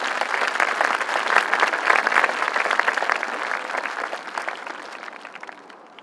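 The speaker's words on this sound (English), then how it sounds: "Please give her a round of applause." An assembly audience at a whole-school opening claps for a new senior school principal, a dense, steady round of applause that holds strong and then thins and fades toward the end.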